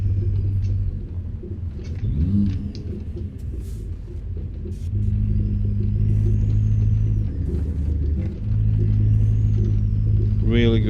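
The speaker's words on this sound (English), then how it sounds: "Really good sound on every engine basically." A Cummins Big Cam truck engine in American Truck Simulator drones loudly and revs, its deep rumble rising and falling in pitch, ending with a short hiss like an air brake.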